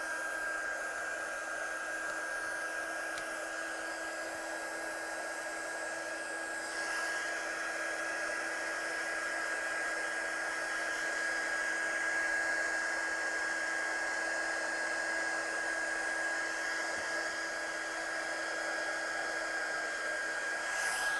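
A heat gun drying a wet watercolour stencil gives a steady, loud blowing hiss that runs unbroken throughout, with a constant whine and no talking.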